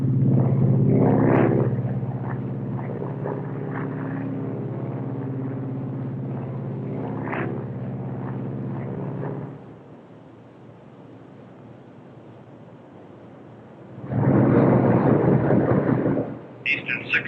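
Lockheed Constellation propeller airliner on approach with its landing gear lowering, a loud low rumbling drone with a roaring swell, then a quieter hum and a strong rise near the end.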